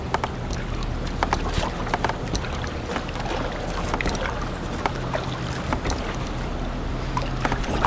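A kayak paddled into a shallow river riffle on the Kiskiminetas River, with steady rushing water and splashing close by, repeated paddle strokes and light wind buffeting the microphone.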